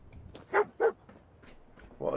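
Dogmeat, the dog companion in Fallout 4, gives two sharp close barks in quick succession, followed by a fainter sound near the end.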